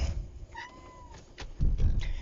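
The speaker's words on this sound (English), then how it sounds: "And the cat is still meowing" A domestic cat meows once in a drawn-out, rising-and-falling call, followed by soft rustling and thumps nearby.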